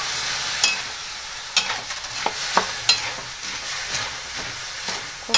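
A metal spoon scrapes sunflower seeds around a kadhai in salted water over a high gas flame, giving irregular close scraping strokes over a steady bubbling sizzle and hiss.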